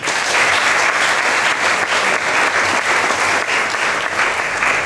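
An audience applauds steadily and loudly throughout at a ceremony dedicating a restored Bible in Grand Bassam, a dense unbroken wash of clapping with no pauses.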